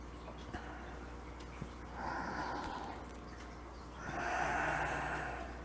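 Slow, deep qigong breaths, a long inhale and a long exhale, soft and close, with no other voices in between.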